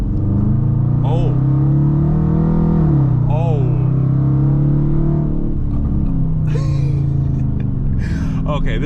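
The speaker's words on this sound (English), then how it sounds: "Let's do a little brisk acceleration here, nothing crazy, just a little brisk one." A Dodge Challenger R/T with a 5.7 V8 revs hard and accelerates loudly for several seconds, its tires sliding, a deep droning exhaust needing work rising and falling, with brief voices breaking in over it.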